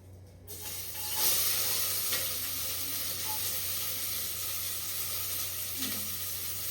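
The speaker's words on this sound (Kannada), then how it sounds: "ಸ್ವಲ್ಪ ಫ್ರೈ ಮಾಡ್ಕೊಳ್ಳಿ. ಅರ್ಧ ಈರುಳ್ಳಿ ಹಾಕಿದ್ದೀವಿ." Onions sizzling and frying in a pan during home cooking of mutton sambar, a steady close hiss running throughout with faint clinks and stirring noises.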